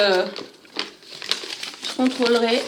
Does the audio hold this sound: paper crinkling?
yes